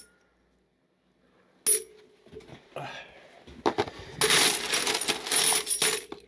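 A handful of bronze world coins spills onto a pile, first a single sharp clink, then a dense, bright jingling cascade that rises and rattles on for a couple of seconds, close up, with a voice briefly audible.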